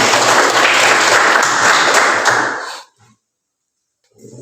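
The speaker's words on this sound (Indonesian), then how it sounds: "Dan kita beri aplaus dulu" Loud, close applause from a gathered group in a church-style meeting, a dense burst of clapping lasting under three seconds before cutting to silence, then faint sounds returning at the end.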